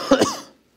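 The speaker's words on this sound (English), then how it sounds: "I think you said it, but I coughed right over it." A single close, loud throat-clearing cough, two quick rough bursts that fade within half a second.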